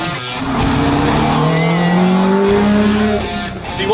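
A Ferrari supercar driving on a French road, its engine loud and close, revving steadily upward through the gears with a continuous rising roar.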